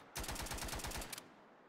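Rapid automatic gunfire from an Infinite Warfare gun mod in Starfield, a loud sustained burst of roughly a second with fast regular shots, then cutting off into quiet.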